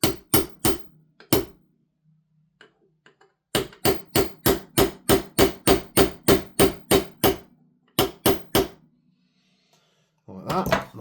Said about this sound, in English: we'll just tap these pins in